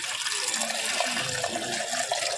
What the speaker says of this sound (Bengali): দুধটা ঢেলে দিচ্ছি।